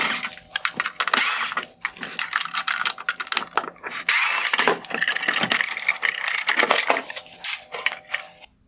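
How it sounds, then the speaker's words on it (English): A power driver rapidly backs out T20 screws from an outer LED bar on a 2018-2021 Range Rover Sport OEM LED headlight, with close, loud bursts of ratcheting clicks and whirring, with brief pauses between screws. "Next, I'm going to remove the T20 screws holding on this outer LED bar."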